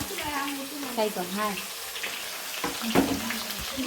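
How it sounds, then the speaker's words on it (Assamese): Onions sizzle and crackle in hot oil with bay leaf and cinnamon, a steady broadband frying hiss running throughout while someone talks over it. "এয়া তেল পাতাৰ পিছত পিঁয়াজ দি দিছোঁ"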